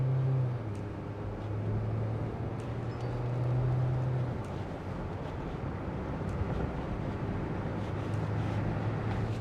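A Mahindra Scorpio N accelerates hard past 100 km/h, its engine a steady, droning hum inside the cabin, with wind and road noise building around it.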